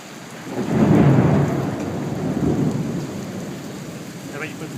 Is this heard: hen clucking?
no